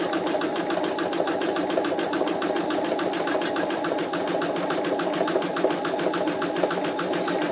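Embroidery machine stitching a knockdown zigzag on wallet card slot pockets, with a steady, rapid mechanical clatter of needle strokes throughout, close and continuous.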